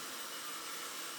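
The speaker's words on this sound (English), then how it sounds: "So this hair dryer that you're using" Steady broadband whoosh of a Dyson hair dryer blowing, a constant airy hiss with no change in pitch, fairly quiet and uninterrupted.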